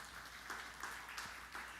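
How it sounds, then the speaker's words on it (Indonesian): Audience applause inside a church during a sermon, a soft, distant patter of clapping that swells in small bursts over steady room noise. "Tepuk tangan yang meriah bagi Tuhan Yesus."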